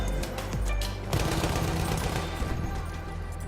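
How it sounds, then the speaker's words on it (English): An MG15 Low Weight light machine gun in Battlefield 1 fires a steady rapid stream of loud, close shots, the sustained automatic rattle continuing without pause. "the MG15 Low Weight is an amazing gun"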